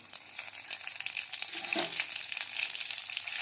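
Ginger paste and four green chillies frying in oil in a kadai, a soft but steady close sizzle with light crackles and a short scrape near the middle, no talk.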